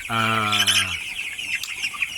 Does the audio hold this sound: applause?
no